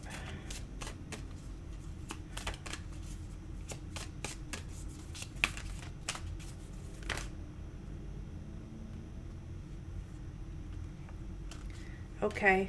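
Tarot cards are shuffled in a series of quick, crisp riffling bursts, close and fairly quiet, with someone briefly speaking.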